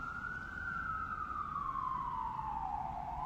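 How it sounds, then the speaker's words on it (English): A single loud siren wails, its pitch slowly falling, over a constant low rumble of traffic on a New York city street. "the soundscape of New York. Sirens. Every fucking 5 seconds."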